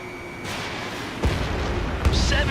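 Missiles launch and explode in the jet combat game Ace Combat 7, loud booms and bursts over a roaring engine drone, with a brief radio-style voice near the end.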